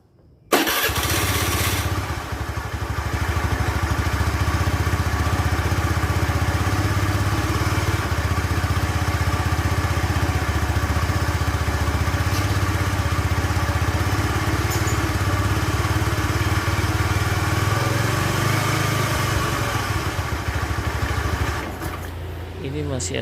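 A Honda Spacy FI scooter with an engine that smoked cranks and fires, then settles into a steady, uneven idle that runs loud and close for about twenty seconds before it cuts off.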